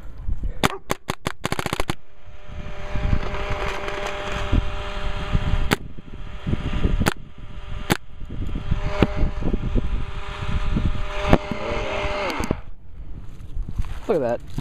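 Etek Ego paintball marker shooting at a poster outdoors in cold weather, a quick burst of sharp pops followed by scattered single shots, loud and close, with voices talking over a constant background noise.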